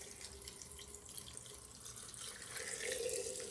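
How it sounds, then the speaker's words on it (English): Brine poured from above over cucumbers packed in a fermenting jar for dill pickles, a soft trickling stream that grows slightly fuller toward the end, with no talk. "it's time to top up and cover the cucumbers with the brine"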